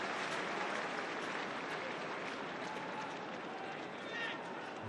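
Steady roar of a stadium crowd applauding at an English Championship football match between Huddersfield Town and Blackburn Rovers, distant and diffuse, with commentary voices faintly underneath.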